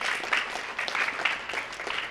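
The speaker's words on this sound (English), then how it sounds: "Give yourselves a round of applause." Applause from a middle school audience at a food drive presentation, a steady burst of clapping over about two seconds with no voices.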